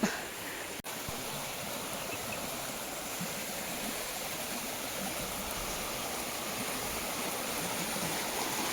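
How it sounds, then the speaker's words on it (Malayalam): A small village stream flowing steadily, a continuous close rush and babble of water with no talk over it. "ഇത് ഞങ്ങളുടെ ഇവിടുത്തെ തോടാണ് കേട്ടോ, ചെറിയൊരു തോട്."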